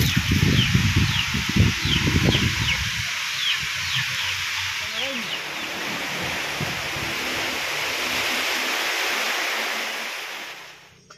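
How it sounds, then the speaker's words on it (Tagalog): Monsoon wind sweeps through a rural farm, a steady broadband rush of gusting air and rustling leaves that holds fairly loud for the whole stretch before fading at the end. "Hangin, habagat."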